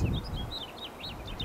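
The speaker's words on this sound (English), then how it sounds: "Oh yeah, that's a house finch." American house finch chirping outdoors in brush, a run of thin, quick high warbling notes over soft rustling background, moderately near and continuous throughout.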